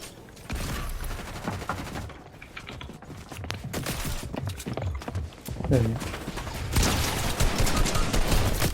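Bursts of rapid Fortnite gunfire crackle through the game soundtrack, with a person talking excitedly over the shots throughout.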